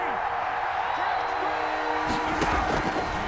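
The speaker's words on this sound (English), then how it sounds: "Here comes a big one as this crowd gets up making some noise" Stadium crowd noise from a Madden NFL 21 football game, a steady roar that swells with cheering and scattered claps toward the end, with commentary talk over it.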